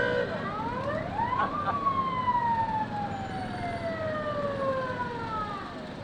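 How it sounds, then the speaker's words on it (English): Clatonia Fire and Rescue fire truck sirens wail in rising and falling sweeps at a small-town parade in Nebraska, loud and continuous over crowd murmur. "I hear sirens."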